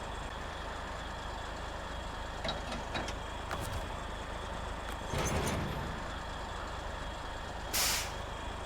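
A heavy truck idles and strains while pulling a trailer in the SnowRunner game, a steady low engine drone with brief hissing air-brake bursts and a sharper release near the end, no voices.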